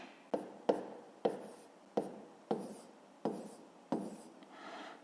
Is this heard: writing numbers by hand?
yes